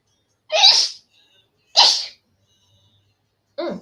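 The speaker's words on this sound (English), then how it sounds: "sorry, I'm fixing to sneeze." Three sharp sneezes burst out close up, evenly spaced with silence between them, the last one cut short.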